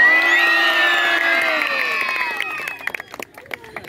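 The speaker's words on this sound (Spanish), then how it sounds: "regálame un fuerte grito" A large crowd at a racing event shouts and screams loudly all together, a sustained roar of voices that fades into scattered cheers, claps and clatter.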